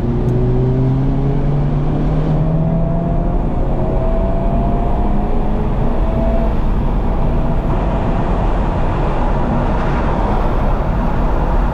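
Race car accelerating hard on the track at Homestead Miami Speedway, a loud, close engine roar climbing in pitch through several gear changes and holding a harsh, steady drive with no voices over it.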